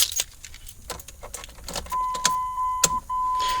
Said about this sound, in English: We're going to put in the ignition and turn it to the run position.